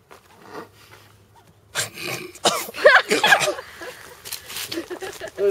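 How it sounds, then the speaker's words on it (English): A person inside a bee suit coughs several times in harsh, close bursts after a quiet stretch, with nearby voices talking around it. "I coughed."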